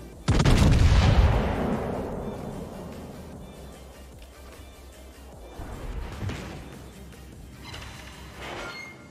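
Secondary guns on the battleship Atlantico fire in a naval video game: a loud, sharp opening blast decays into a long rumble, followed by two fainter distant booms later on.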